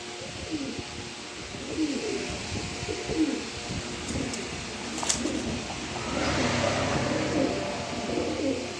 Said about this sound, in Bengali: নরগুলো ডাকাডাকি করতেছে